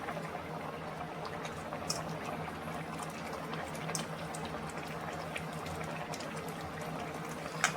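Fish curry gravy bubbles steadily in a pan, a soft continuous simmer with occasional small pops, close and fairly quiet, no talking.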